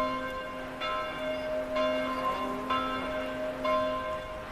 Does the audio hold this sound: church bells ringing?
yes